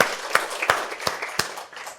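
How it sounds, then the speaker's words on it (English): Small audience at a patient education presentation giving a brief, sparse round of applause, a few distinct hand claps spaced out over a soft background. "Give him a round of applause."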